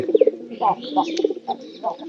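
A white pigeon coos close by in a short series of soft, throaty pulses, with another bird's faint calls and light background noise around it.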